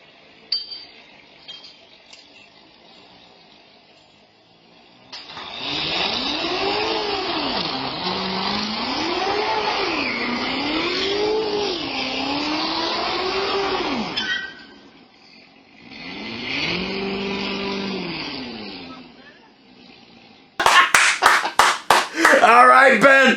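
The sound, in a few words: Corvette ZR1 doing donuts, engine revving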